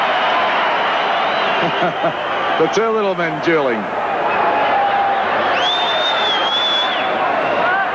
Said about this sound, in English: the crowd love that